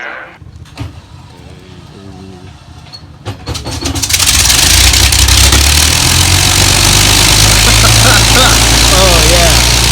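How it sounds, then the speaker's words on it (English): Avro Lancaster bomber's piston engines start up with sputters and bangs, then swell into a loud, steady roaring drone that dominates everything, at the Lincolnshire Aviation Heritage Centre, with voices audible before the engines catch. "When we start the aircraft, the engines are very loud."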